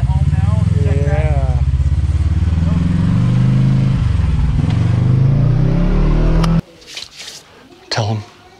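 A Kawasaki KRX 1000 UTV with a suspected slipping belt drives with its engine running loud and steady under talk, rising in pitch, then cuts out abruptly near the end, leaving brief voices.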